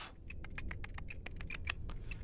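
Rapid typing on a new computer keyboard, a quick run of crisp, close key clicks at an uneven rhythm with no voices over it.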